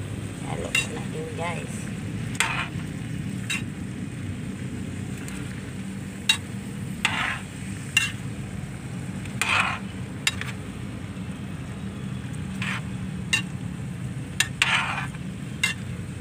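Vegetables stir-fry in a pan for a Filipino milkfish liver adobo, a steady sizzle beneath repeated sharp clinks and scrapes of a utensil against the pan, close up with little talking.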